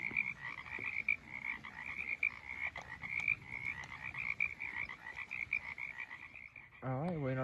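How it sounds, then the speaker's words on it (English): Frogs croak in a steady pulsing chorus beside a creek at night during a trail camp, close and continuous, with a brief low voice near the end. "You can hear the frogs."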